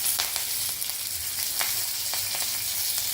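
Mustard seeds and curry leaves sizzling in hot oil in a pan, a steady soft hiss dotted with sharp pops and crackles, close by and without voices.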